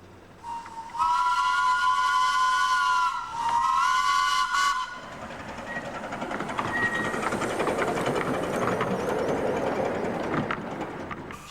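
A minimum gauge steam locomotive on a scenic line in North West England gives a long two-part whistle, then runs on with a broad, steady hiss and rumble.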